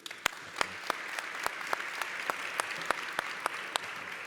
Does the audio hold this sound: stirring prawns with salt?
no